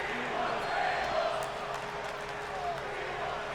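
Wrestling arena crowd in the video game WWE 2K23 forms a steady, distant roar of murmuring and cheering, swelling slightly at moments, with a commentator talking over it.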